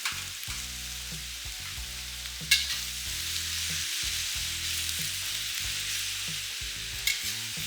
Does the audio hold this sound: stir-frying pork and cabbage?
yes